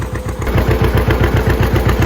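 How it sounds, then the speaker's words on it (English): A tractor engine chugs steadily during haymaking, a rapid, even low-pitched throb with regular pulses, fairly loud and close, with no voices over it. "So I don't know if you guys can hear me well with the tractor in the background."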